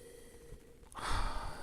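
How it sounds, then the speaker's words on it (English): A close, soft nasal sniff over a glass of Pinot Noir wine, one short intake of air rising after a quiet pause, alone without talk. "So let's give this a little sniff."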